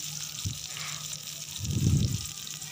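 Chopped onion and green chilli frying in hot oil in a kadai, a low sizzle with a brief burst near the start and a louder bubbling swell toward the end.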